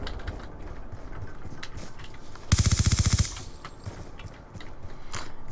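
Suppressed MP7 fire in a video game, one rapid burst of about a dozen muffled, clicking shots lasting under a second. It rises clearly above quieter game ambience and footsteps, with no talking.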